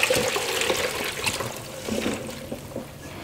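Brine drained off giardiniera vegetables, a close rushing splash of liquid pouring and trickling away, strong at first and then easing into a thinner dribble, with no speech.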